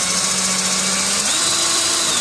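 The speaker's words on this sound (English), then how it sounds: "now what I'm going to do is drill each rivet with a 5/32 bit" A drill with a 5/32 bit bores out a rivet on a Ford Windstar window regulator, a loud, steady whine held close throughout, the pitch shifting upward partway as the bit bites, with no talking.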